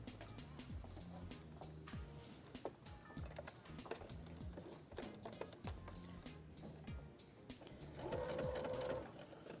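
A sewing machine stitches patchwork for a Christmas window panel, running in a steady rapid rhythmic clatter with brief pauses and speed changes, and a faint whine near the end.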